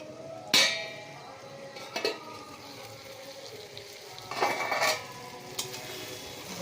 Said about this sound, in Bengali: ও বন্ধুরা, আমি ঢাকাটা খুলছি।